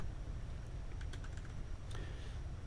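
Computer keyboard keys pressed while entering a PLC program, a few faint quick clicks in two small bursts over a low steady background hum, with no voices.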